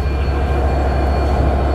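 The Rupsha Express locomotive idles during a halt at a station, a loud, steady low rumble and drone that continues without a break.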